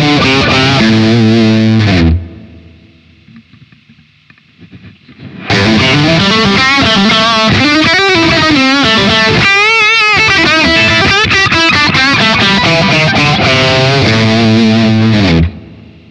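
Electric guitar through a booster pedal with the mid EQ off and the range knob turned fully down, giving a driven, distorted tone: a ringing chord, a short pause, then a loud, busy riff played close.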